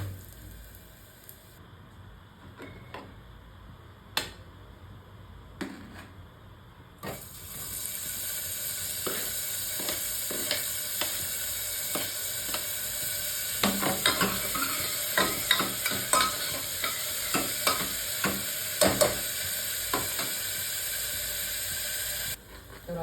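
Cumin and then green chillies go into hot oil for khichdi, a few light taps and clinks giving way to a loud, sudden, sustained sizzle that keeps hissing with scraping stir strokes throughout.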